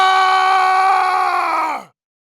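A man's loud, sustained scream in an animated Hindi horror story, one long piercing cry held at full strength before cutting off abruptly into silence.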